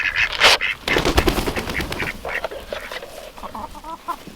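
Hens cluck and squawk inside a chicken coop, a close, busy chorus of overlapping calls and sharp bursts that fades to softer, broken clucking toward the end.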